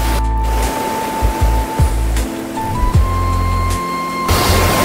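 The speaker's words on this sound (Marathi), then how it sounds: "माझ्या मागे पण लय सुंदर असा धबधबा आहे" Devkund waterfall near Nashik roars as a steady, loud wash of rushing water, constant and dense throughout with a few low bumps.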